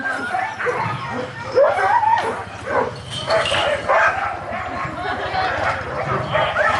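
Sled dogs bark and yip during a training run in Alaska, between Talkeetna and Denali National Park. The barking is repeated and uneven, close to moderately near, and mixed with someone talking throughout.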